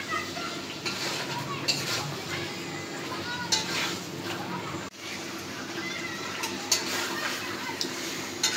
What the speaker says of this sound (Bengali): মশলার সাথে রোস্টটা নেড়ে মিশিয়ে দিয়ে ভালোভাবে কষাই নিব